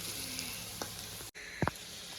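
Onions and green chillies sizzle in a frying pan during cabbage Manchurian cooking: a steady close hiss with a brief cut, then a couple of short clinks from stirring.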